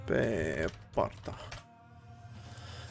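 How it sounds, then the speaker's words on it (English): Keys struck on a computer keyboard at a desk during a development livestream, a dense burst of close clattering followed by a couple of separate taps, then quiet room hum. "how bad did it was on stream when I was hitting my keyboard?"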